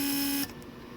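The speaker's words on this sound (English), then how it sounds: "when I lock the car, vacuum is created, and I unlock it, and that's pressure" Whirring electric hum of the central-locking vacuum pump on a Mercedes 300SD, running steadily with a faint tone before cutting out abruptly partway through, leaving only quiet background.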